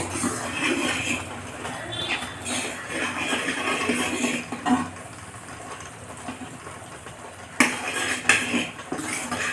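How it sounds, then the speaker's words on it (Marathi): Roasted chickpeas tumbling into melted jaggery in a metal pan, with clinking and scraping of a utensil against the pan and a steady sizzling hiss underneath, close and fairly loud. "तर चला मी फुटाणा टाकून घेते."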